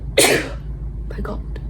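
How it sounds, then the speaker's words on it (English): A single loud, close sneeze bursts out, followed by quieter sniffs or small vocal noises over a steady low hum. "Hold on, I have to sneeze."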